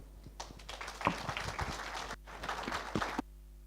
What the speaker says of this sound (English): Another round of applause, ladies and gentlemen, for the Old Mutual COO